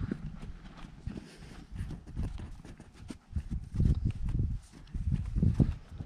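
Hooves clip-clop steadily on hard ground as several Ardennes draft horses walk close by, the uneven beats overlapping with some shuffling.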